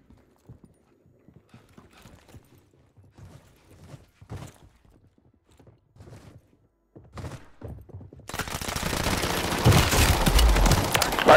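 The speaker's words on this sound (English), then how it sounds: "SMG." Submachine gun fire in Call of Duty Warzone, heard as scattered bursts and clatter through the first part, then giving way to a loud, dense wash of gunfire and noise that fills the final few seconds.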